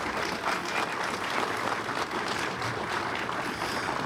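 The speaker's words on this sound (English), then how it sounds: "Let's give them a big round of applause" Outdoor audience applause for a band at a Ukraine support charity event in Elmhurst, a continuous moderately distant patter of many hands clapping, steady throughout without talk.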